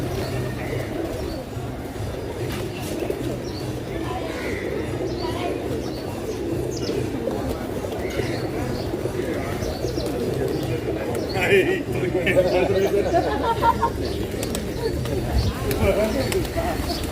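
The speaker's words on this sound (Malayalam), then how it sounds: "പിന്നെ കുറേ പ്രാവുകളൊക്കെ ഉണ്ട് കേട്ടോ." Pigeons coo steadily at the Annapurna sunrise viewpoint above Pokhara, Nepal, their soft, throaty calls repeating over a dense bed of crowd murmur and occasional chirps from other birds.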